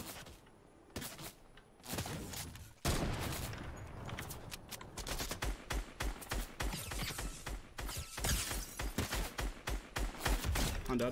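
Rapid bursts of gunfire in the Fortnite video game, dense repeated shots with short pauses, fairly loud and continuous for several seconds, with no talk over them.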